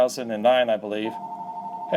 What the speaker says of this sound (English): sorry about the phone ringing there